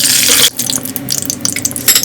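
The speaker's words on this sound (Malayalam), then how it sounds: "ഇത് നമ്മൾ ചൂടായ വെളിച്ചെണ്ണയിലേക്ക് ഇട്ട് കൊടുക്കുകയാണ്." Whole spices such as fenugreek, cinnamon, cardamom and cloves hit hot coconut oil, giving a loud broadband sizzle that drops after half a second into a steady, crackling fry with no talk.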